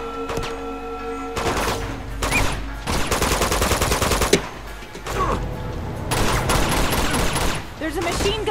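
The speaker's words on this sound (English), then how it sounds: "There's a machine gun over there." Rapid machine gun fire in a shootout in the video game Uncharted 2 Among Thieves Remastered, loud repeated bursts with brief gaps between them and game sound effects mixed in.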